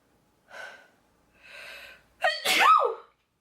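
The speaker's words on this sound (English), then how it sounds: "Oh my god, I'm gonna sneeze." A person sneezes once, loud and close, after two softer preparatory breaths drawn in through the nose, the sneeze ending in a sharp falling voiced burst.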